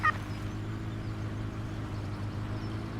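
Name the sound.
turkeys gobbling in video game Farming Simulator 17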